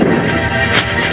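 An explosion in an action film, a dense, loud rumbling blast with a brief bright burst partway through, filling the whole short moment.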